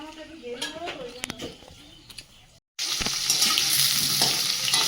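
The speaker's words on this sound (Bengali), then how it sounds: "একদিকে মাংসের আলুটা ভেজে নিচ্ছে আর একদিকে মাছ ভাজা" Potatoes for a meat curry and fish fry in separate pans in a home kitchen. Voices talk over clinks at first, then after a brief gap a loud, steady sizzle of frying fills the rest.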